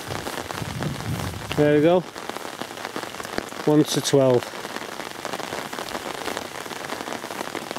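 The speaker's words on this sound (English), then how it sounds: "get out of this bloody rain for 10 minutes" Steady rain patters over the water and banks of a canal match fishery at Old Hough Upper Benbo, a constant close hiss throughout, with someone speaking briefly twice over it.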